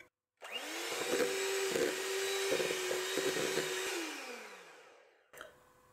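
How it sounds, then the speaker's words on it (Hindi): An electric mixer beats butter in a bowl at high speed, a loud steady whir that starts abruptly, runs about three and a half seconds with bumps of the beaters against the bowl, then winds down and stops. "बटर को अच्छा सा बीट करेंगे हाई स्पीड पे"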